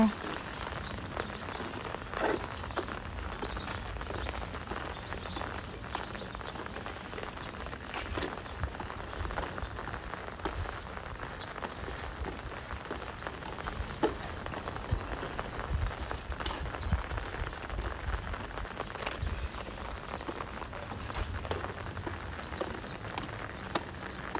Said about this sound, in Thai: วันนี้ฝนตกค่ะ เลย ใส่ ชุดกันฝนนะคะ